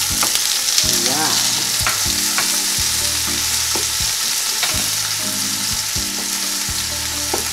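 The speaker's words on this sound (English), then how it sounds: "When you hear that sizzling sound," Diced bell pepper and onion sauté on a grill with a steady, close frying sizzle and occasional stirring scrapes, heard under a looping background melody.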